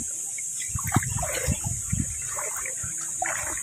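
Knee-deep river water flows at the mouth of a cave in Indang, Cavite, rushing steadily with a hissing wash, broken by a few nearby splashes and sloshing thuds.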